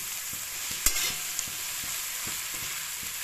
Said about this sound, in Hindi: अब मैंने प्याज को इसमें डाल दिया और मैं प्याज को अच्छे से लाल करूंगी।